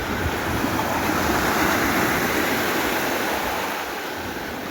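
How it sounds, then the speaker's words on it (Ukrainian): Steady rush of sea waves washing onto a sandy beach in the Netherlands, a continuous broadband surge with no talking, fairly close and even in loudness throughout. "Там вам послухати мелодію хвиль."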